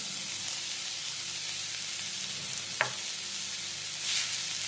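Mustard leaf bhaji with coarse roasted peanut powder frying in a pan, a steady close hiss of sizzling with one brief scrape of stirring, even and moderate, no voices.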